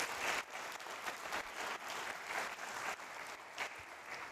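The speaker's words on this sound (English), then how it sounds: "Let's give another round of applause to Matt." An audience at an Air Force Research Laboratory conference event applauds a presenter, dense steady clapping filling the room for several seconds.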